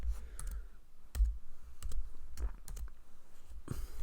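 Scattered keystrokes on a computer keyboard, a few sharp clicks spaced irregularly over a low room hum, with one louder burst of taps near the end.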